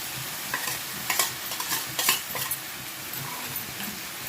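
Bell peppers being stir-fried with Alexandrian-style liver in a pan, giving a steady low sizzle with scattered stirring scrapes and light utensil knocks close by, no voices.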